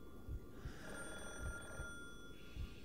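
A phone rings faintly inside the horror game Calling, a continuous thin electronic tone over soft low thumps that recur about once a second, with nobody speaking.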